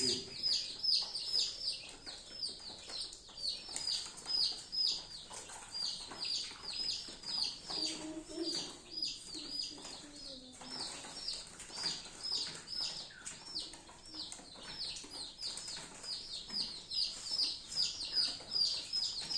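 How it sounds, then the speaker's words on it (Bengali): Many chicks cheep continuously in a rural village setting, a dense chorus of high, rapid peeps with occasional wing flaps and a faint fowl cluck. "মুরগির বাচ্চার শব্দ শোনা যেতেছে"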